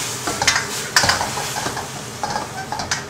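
Ginger and onion chicken is stir-fried in a pan, with a constant sizzle and scraping, clattering spatula strokes against the metal at an irregular rhythm, close and fairly loud.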